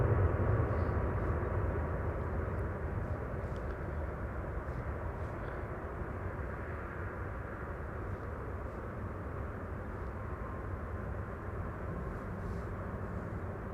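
Landing airliner at Amsterdam Schiphol applying thrust reversers, a broad loud roar that is strongest at first and then settles into a steady rushing drone, with no talk.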